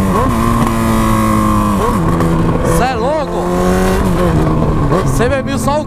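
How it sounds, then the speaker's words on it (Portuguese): A Honda CB1000 motorcycle with a straight-pipe exhaust revs loudly and continuously, its engine note rising and falling in steady sweeps, close up and filling the whole stretch. "A moto berrando, fazendo zoada."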